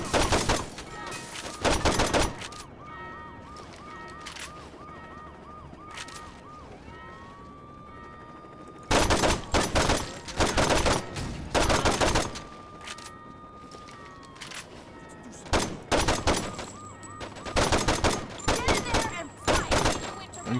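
Bursts of gunfire from a shootout in the video game Saints Row 2, fired near a cash register, come in several clusters of rapid shots separated by quieter stretches filled with a wailing police siren.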